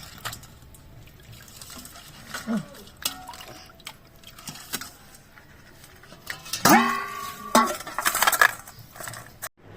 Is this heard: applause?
no